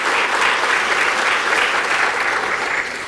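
Steady, dense applause from a college-day audience fills the whole stretch, sustained and fairly loud with a gentle fade at the end.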